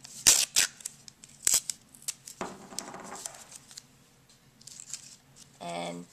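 Sticky tape pulled and torn for taping drinking straws together, heard as a few sharp close rips and crinkles followed by a rasping tear at the end, quiet between sounds.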